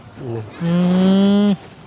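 A water buffalo lets out a single loud, sustained moo lasting about a second, preceded by a shorter low grunt, close by in a quiet rural setting.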